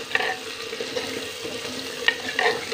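Tomatoes frying in a pan with ginger-garlic paste, a steady close sizzle with a few scraping stirring strokes and light clinks.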